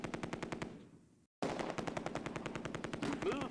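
Machine gun fire in the World War II game Close Combat: a Vickers and an MG42 trade bursts, dense rapid rattling that breaks off for a moment of near silence before resuming, loud and continuous.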